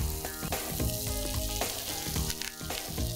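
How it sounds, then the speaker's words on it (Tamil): Onions, cumin, mustard seeds, coriander, green chilies and curry leaves sizzle steadily in hot oil in a pan, a dense continuous crackle with occasional stirring scrapes, close and with no voices. "போட்ட பிறகு வெங்காயம், சீரகம், கடுகு, கொத்தமல்லி, பச்சை மிளகாய், கருவேப்பிலை இது எல்லாத்தையும் போட்டு லைட்டாக வதக்கிடுங்க"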